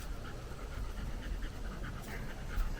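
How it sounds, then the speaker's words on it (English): A dog pants hard and fast right beside the microphone, a steady run of quick rhythmic breaths, indoors next to a washing machine under repair, with no talking. "It's not me breathing hard, it's the dog."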